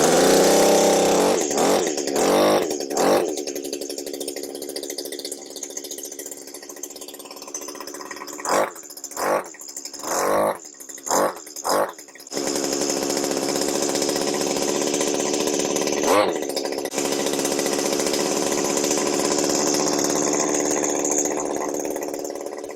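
A Stihl HS80 hedge trimmer's small two-stroke engine runs loud and close at fast idle with the choke on, a steady buzzing drone broken midway by several sharp sputtering bursts before settling back into its even hum.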